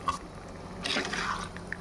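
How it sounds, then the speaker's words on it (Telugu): Water poured into a pan of simmering homemade chicken curry, a brief soft splash and trickle heard up close and quietly, with no talking. "కొంచెం వాటర్ పోసుకుందామండి"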